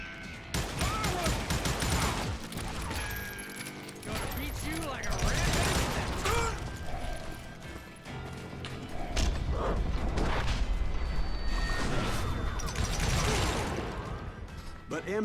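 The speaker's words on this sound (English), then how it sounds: "Well, of course, it's shotgun." Shotgun blasts ring out repeatedly in the Western shooter Call of Juarez: Gunslinger, dense and loud over a busy mix of game effects, mechanical clacks and creaks across the whole stretch.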